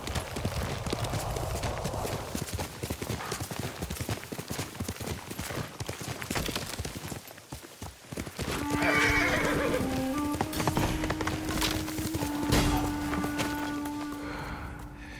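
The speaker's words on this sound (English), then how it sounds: "You're a good horse, Noble." A horse in the samurai action game Ghost of Tsushima gallops with steady, rapid hoofbeats and whinnies. A sustained musical drone joins partway through, and the hoofbeats continue under it.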